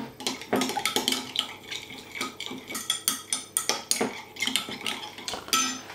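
A spoon clinks and scrapes repeatedly against a bowl, stirring something into hot water to dissolve, in quick, uneven strokes, close and fairly loud, with no talking.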